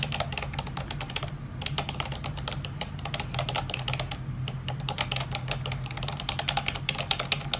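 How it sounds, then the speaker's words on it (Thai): Rapid, steady keystrokes clatter close up on a wireless keyboard, a continuous run of crisp clicks with a low hum underneath. "อันนี้เป็นคีย์บอร์ดแบบไร้สาย"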